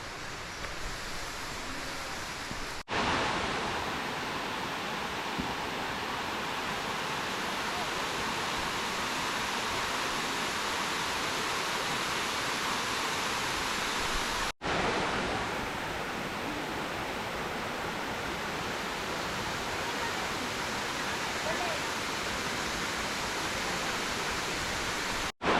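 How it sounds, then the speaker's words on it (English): A waterfall on Marinduque pours in a steady, broad roar of rushing water, constant and enveloping throughout, with a couple of abrupt cuts in the recording. "There's nothing like the sound of the waterfall."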